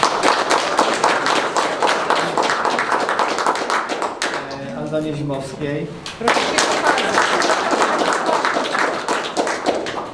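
An audience at a ceramics festival event in Włocławek claps steadily as names are called out, the applause running throughout with a spoken announcement breaking in midway.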